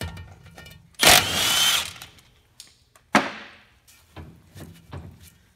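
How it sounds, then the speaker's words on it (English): An impact wrench removing bolts from the rear differential support bracket of a 2003-2017 Ford Expedition: a loud, close burst of rattling hammering, then a second shorter burst, with faint clanks of tools in between. "Impact is best, so we can just zing it right off."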